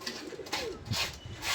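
A pigeon gives low, throaty coos at close range, a couple of soft rolling calls over faint background noise.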